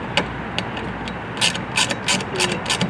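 A hand ratchet tightens a fastener while an accessory is fitted to a 2024 Ford Mustang Mach-E Rally, making quick bursts of close, sharp clicking in short runs with brief pauses between them.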